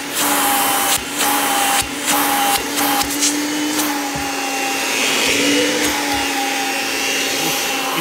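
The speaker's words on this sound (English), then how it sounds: "that allows the motor to operate at its highest speed, so you get the most suction for using your hose" A Kirby G5 upright vacuum, pre-restoration, runs at its highest motor speed for hose suction, a loud steady whine with a few brief dips and bursts in pitch near the start, then holding constant and close.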